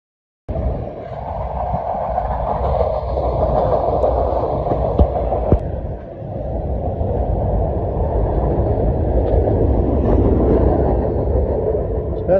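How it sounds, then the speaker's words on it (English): Train passing, a loud continuous rumbling roar with a rolling midrange drone and occasional metallic clicks, sustained close by for over ten seconds without letup. "That's the ending of the train."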